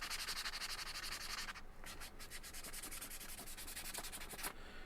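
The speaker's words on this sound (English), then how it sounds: "take a little time to sand these edges so they're not sharp" Steady sanding of the edges of a steel belt core, a continuous abrasive rubbing with strokes that shift slightly in texture, close and quiet with no voices.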